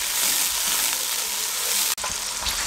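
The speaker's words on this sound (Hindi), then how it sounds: "1 अदद गाजर बारीक कटी हुई शामिल कर दें और इसको 30 सेकंड के लिए इसको भी फ्राई कर" Finely chopped carrot and peas fry for fried rice with a loud, steady sizzle that is close, broken by one brief dropout near the end, and no voices.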